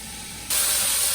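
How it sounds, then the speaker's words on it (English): Scallops and steak in a hot stir-fry pan break into a sudden loud, bright steaming hiss halfway through, following a quieter low sizzle, close up with no talking. "Steam it just for a second."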